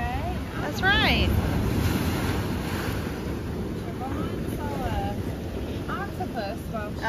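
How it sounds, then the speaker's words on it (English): Strong ocean waves and surf in the Bahamas during a jet ski outing, a continuous loud wash with heavy wind buffeting the microphone, while people talk and exclaim over it. "Those waves are coming. Strong. And that current."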